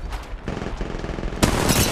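Rapid bursts of gunfire in Apex Legends Mobile, loud and close, with dense automatic shots and a sharper heavy volley near the end.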